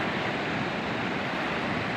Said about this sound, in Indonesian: Nah, ini ombak pas pada berdatangan ke sini.